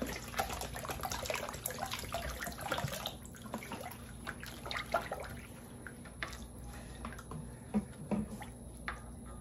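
Water splashes and gurgles into a container while making otai, a Tongan watermelon drink, with irregular sloshes, drips and wet squishy movement in the foreground, busier at first and thinning out later.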